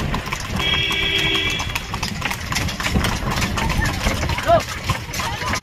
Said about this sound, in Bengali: একদম সন্ধ্যের সময় এরকম পিচের রাস্তার উপর দিয়ে ঘোড়ার গাড়ি যাচ্ছে